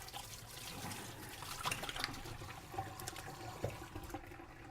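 Water runs steadily from a tap in a kitchen as something is washed beneath it, a continuous splashing hiss at moderate level with small irregular spatters and no talking.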